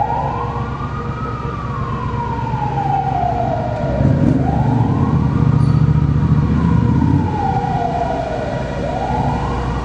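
Ambulance siren echoing inside a road tunnel, heard from right behind it on a Triumph Bonneville T120 motorcycle. A steady rising-and-falling wail repeats over a loud, constant rumble of engine and tunnel roar.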